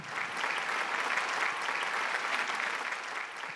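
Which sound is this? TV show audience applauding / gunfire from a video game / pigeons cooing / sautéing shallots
TV show audience applauding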